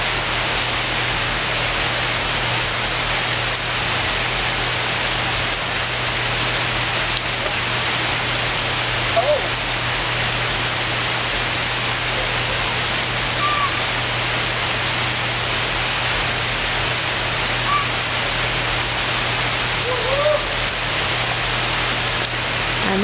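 Rainwater gushes from a downspout in a steady, continuous wash of broadband water noise that holds unbroken and fairly loud from start to finish, with no voices.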